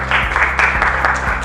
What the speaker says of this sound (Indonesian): Beri tepuk tangan untuk Ian